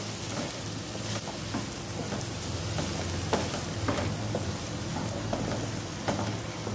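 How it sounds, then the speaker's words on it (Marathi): Raw banana pieces sautéing with softened onion in a pan over a low flame give a dense, even, rain-like sizzle that stays steady and close throughout, with a few faint crackles and no voices. "आता लो फ्लेमवरच व्यवस्थित परतून घ्यायचे आहे।"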